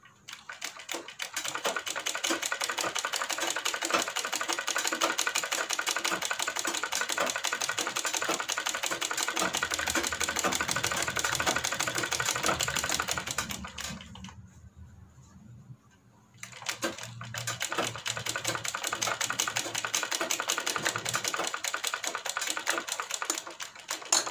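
Sewing machine stitching kurti fabric, a fast, steady mechanical whirr with rapid needle clatter, pausing briefly midway before running again.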